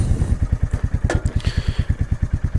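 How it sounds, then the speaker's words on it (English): A Royal Enfield Meteor 350 motorcycle engine idles close by with a steady, even thud-thud beat at tick over, regular low pulses running through the whole stretch. "the engine makes a wonderful sound at tick over. Lovely thud thud sound."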